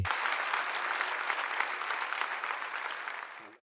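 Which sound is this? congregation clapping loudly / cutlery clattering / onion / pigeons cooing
congregation clapping loudly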